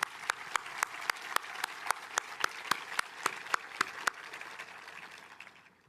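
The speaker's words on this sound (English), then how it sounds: "Let's all give another round of applause to the kindergartners and the high school choir" At a high school graduation ceremony, hands clap for the kindergartners and the high school choir. Sparse, evenly spaced claps ring out in a steady rhythm, faint and a little distant, then stop and trail off into quiet room tone.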